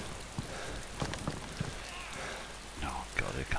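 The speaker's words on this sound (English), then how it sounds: "with the rain and the thunder, good timing there, thunder" Rain falls steadily across a DayZ game world during a thunderstorm, a continuous hiss with scattered drop patter and a few soft thumps, fairly faint throughout.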